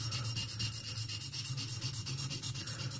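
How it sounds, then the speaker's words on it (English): A French Thiers pocket knife blade rubs steadily across a fine Norton India sharpening stone, giving a continuous, close, even scraping hiss with regular back-and-forth strokes and no voices. "on the sharpening surface. And I'm using Norton India Fine."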